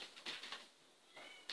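A house cat meows faintly indoors, a few short, soft calls spaced apart in a quiet room.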